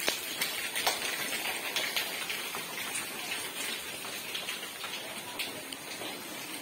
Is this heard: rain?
yes